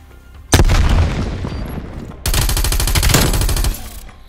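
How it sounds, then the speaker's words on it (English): Frag grenade blast bursting amid rapid gunfire in a Call of Duty: Black Ops Cold War Search & Destroy match, loud and close, with a sharp boom and sustained automatic fire rattling in two dense bursts. "Sent him frag grenade."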